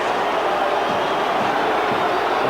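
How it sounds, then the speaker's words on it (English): A rugby league stadium crowd reacts to a try ruled out for a forward pass with a loud, sustained roar and jeering hubbub that fills the whole moment. "The crowd don't like it."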